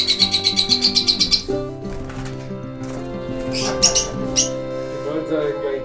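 Lovebirds in an aviary give rapid, repeated chirps at first, then scattered tweets and calls continue over a busy background of other bird sounds, close by, with a person speaking in places.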